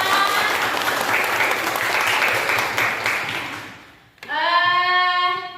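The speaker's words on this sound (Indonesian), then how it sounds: "Tepuk tangan dulu ya." Classroom applause from students in an Indonesian school lesson, a few seconds of brisk clapping that fades out and gives way to children's voices chanting together.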